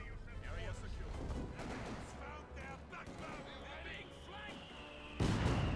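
Rapid bursts of gunfire in the real-time strategy game Company of Heroes 2 crackle continuously under a commentator's voice, ending in a louder close blast as an infantry section is shot to pieces.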